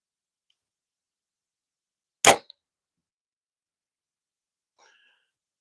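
A single sharp, loud snap of an archery bow releasing an arrow toward a target, standing alone in near silence, followed seconds later by a faint brief rattle.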